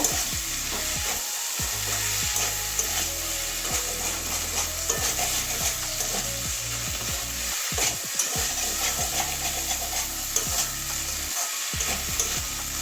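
Potato, carrot and spring onion stir-fry being mixed in a pan with garam masala, a loud constant sizzle with repeated scraping and knocking strokes of the spatula, close with no talk.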